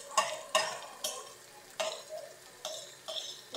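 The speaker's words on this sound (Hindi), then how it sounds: "ये आप देख सकते हैं मटर फ्राई हो रहे हैं" Peas frying in a pan for macaroni, a spatula stirring them with several distinct clinks and scrapes at irregular intervals over a soft, steady sizzle, close and moderately loud.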